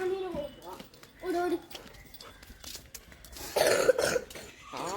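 A voice speaks, then a short burst of coughing breaks in near the end, with more talking around it.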